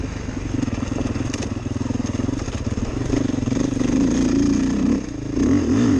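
A Beta 430RR four-stroke dirt bike ridden on a trail lap, its engine droning steadily and close with rising revs and throttle changes, plus rough crunching from the terrain throughout.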